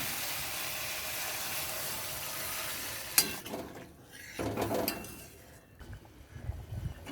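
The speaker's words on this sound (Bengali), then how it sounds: "এখন আমি জল দিয়ে দেবো" Water poured into a sizzling egg curry in a pan: a steady fry gives way to a sharp clatter and hiss, then bubbling and stirring as the sizzle settles.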